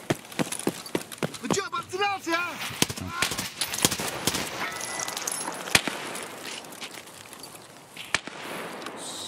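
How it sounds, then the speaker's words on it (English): Gunfire from a sniper scav in a shooter game, scattered sharp rifle cracks and clattering impacts at irregular intervals amid busy game noise, with someone talking over it. "Sniper scav shooting at somebody down there as well."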